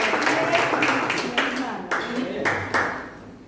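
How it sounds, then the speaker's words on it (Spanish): Classroom audience at a theology class breaking into scattered applause, uneven bursts of clapping with a few sharper claps, close and fairly loud, fading toward the end. "Todos merecen el aplauso."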